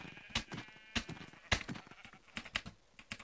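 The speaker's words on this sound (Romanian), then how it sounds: "hai să omorăm o oaie" Several short sheep bleats from Minecraft, spaced apart, with quick keyboard clicks scattered between them.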